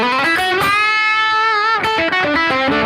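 Electric guitar played through a Friedman amp model on a Fractal FM3, loud and overdriven, with a sustained bent note ringing out between short, choppy strummed chords.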